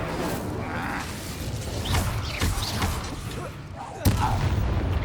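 Fire spell being cast in the Hogwarts Legacy video game, a burst of crackling impact noise amid continuous combat effects, with a sharp loud hit near the end.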